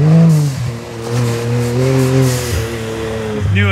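A modified side-by-side UTV with boosted power and new tires races through frozen mud, its engine revving loud and close in rising and falling surges, with no talking.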